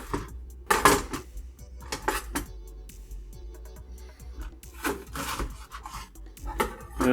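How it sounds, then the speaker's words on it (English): A knife julienning a jalapeno on a wooden cutting board, a quick irregular series of close taps and rasping cuts, some louder strokes, with no talk. "Next I'll julienne a jalapeno."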